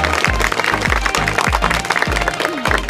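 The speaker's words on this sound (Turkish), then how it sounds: "Bir alkışlayalım, baş başarı dileyelim." A crowd claps for a few seconds at a girls' summer Quran course event, over music with a thumping, regular beat.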